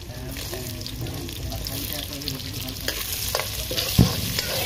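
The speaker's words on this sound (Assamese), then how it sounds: "এই ভাজি আছো তিল" Sesame seeds fry in a pan for an Assamese Uruka feast, giving a steady, close sizzle with stirring scrapes and a sharp clink near the end.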